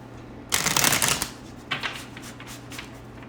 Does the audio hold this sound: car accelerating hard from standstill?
no